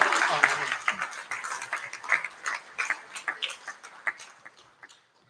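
An audience at a high school senior prize giving claps in a second round of applause, starting dense and loud, then thinning into scattered individual claps that fade out.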